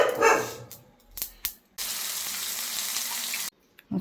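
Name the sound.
yogurt added to hot tempering, sizzling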